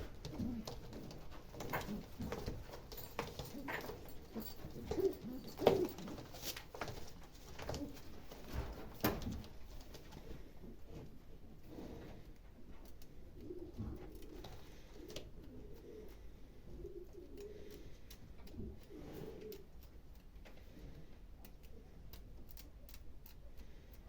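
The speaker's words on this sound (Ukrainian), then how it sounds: "В неї є молода голубка." A young pigeon cooing in a loft, soft low coos repeating across the recording among light ticks, rustles and handling noises, close by and otherwise quiet.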